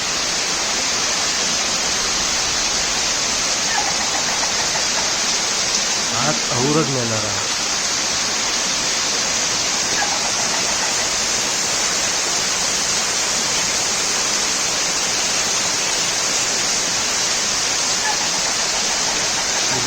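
Heavy monsoon downpour in the Konkan countryside, a steady, dense roar of rain that fills the whole stretch without letup, with someone talking over it for much of the time.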